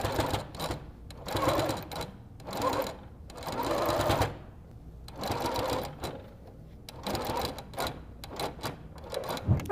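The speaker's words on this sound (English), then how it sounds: "I'm just gonna do a quick sew on both edges just to hold this down." A sewing machine stitches along the edges of a quilted beret in several short bursts separated by pauses, each run a fast, even mechanical patter.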